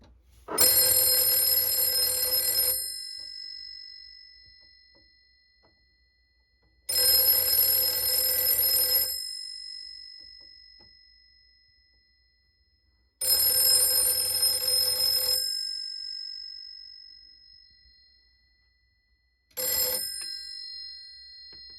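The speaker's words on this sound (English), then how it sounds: "Now we will ring the phone." A 1941 Western Electric 302 telephone bell rings loud and close, with four bursts of harsh metallic ringing, each about two seconds long and separated by about four seconds of silence. The last burst is cut short.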